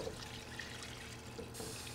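Mushroom soaking water pours steadily into a soup pot already seasoned with fresh rosemary and sea salt, a continuous moderate splashing stream lasting the whole moment with no talking.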